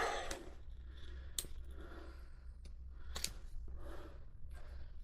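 A piece of rubber is cut from scraps with a few distinct snips and clicks spread across a quiet workshop background, with faint handling noise between the cuts.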